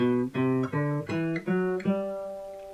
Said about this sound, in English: I'm going to teach you how to play a major scale